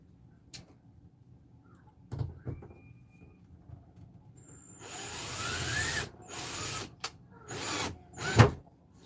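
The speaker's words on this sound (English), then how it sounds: "Might help if the drill was not on reverse." A power drill running in reverse whirs in a few short bursts, then runs longer with a strained, grinding pitch, ending in a sharp clunk; nearby, no talking.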